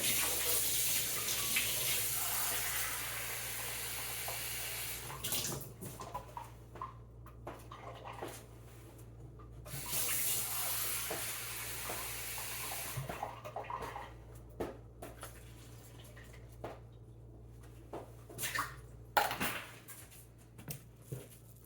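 Lukewarm water runs from a kitchen tap in a home baking setting, a steady hiss broken by pauses and changes in flow, with faint clinks of dishes nearby.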